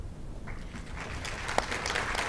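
Applause from an audience welcoming new faculty at a university state-of-the-campus address, a steady wash of clapping of moderate loudness lasting the whole moment.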